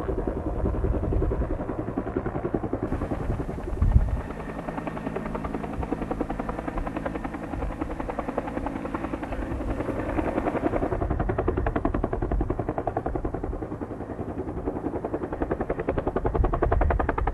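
A helicopter flying over a wildfire, its rotor chopping steadily and loudly throughout, a continuous thrumming drone with a brief thump early on.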